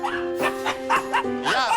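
Caged dogs at an animal rental shop in Japan give several close, high-pitched yips and barks in quick, uneven bursts, with whining tones between them.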